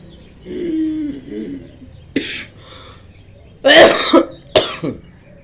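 Coughing during a yoga and pranayama session with throat exercises, heard as a few sharp, close cough bursts in the second half, each short and loud, with quieter breathy sounds earlier.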